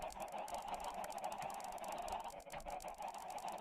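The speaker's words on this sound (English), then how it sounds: "I think it's about time that we got rid of these chickens." Chickens in the Minecraft FTB Revelations modpack cluck as a steady, dense background din with continuous clicking texture and no talk.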